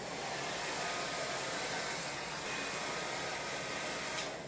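A hair dryer dries paint on a wooden pumpkin, a continuous airy rushing blow that stays steady and close throughout, with no voices.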